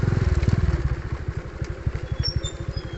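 A motorcycle engine putters steadily at low speed during a ride, a rapid throbbing pulse that starts strong and eases slightly, fairly close with no voices.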